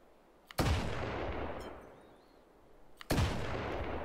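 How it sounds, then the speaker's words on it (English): An old-school double-barrel shotgun in the Hot Dogs, Horseshoes & Hand Grenades game fires two loud, sharp blasts about two and a half seconds apart, each with a booming echo that slowly fades. "It's just a good old, very old school double barrel shotgun."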